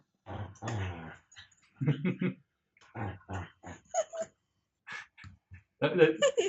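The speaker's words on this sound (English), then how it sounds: "it just sounds like he's growling right into the mic" A dog growls in short, rough bursts very close to the microphone, loud and upfront, separated by brief pauses across several seconds.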